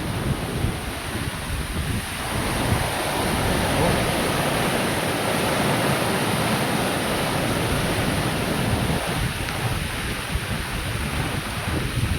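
Steady, dense roar of heavy typhoon rain pouring down without pause, a broad wash of noise filling the whole clip.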